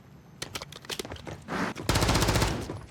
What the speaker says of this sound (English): I want you to shoot as well, like a few shots,